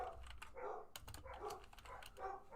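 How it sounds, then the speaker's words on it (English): Dogs bark repeatedly in the video game Project Zomboid, a run of sharp, fairly faint barks in quick irregular bursts, with a soft clatter of keyboard typing underneath. "Dogs are really going for it."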